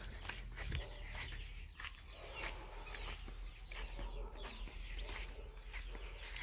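Young chicks cluck softly in a new outdoor enclosure in the morning, a busy scene with scattered short calls over a steady low hum.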